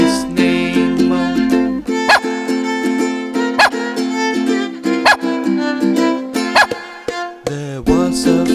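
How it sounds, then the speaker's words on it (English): A cartoon dog barks at regular intervals in the Bingo nursery rhyme song for kids, its short yaps punctuating a loud, bright, sung melody with music. "There was a farmer who had a dog, and Bingo was his name"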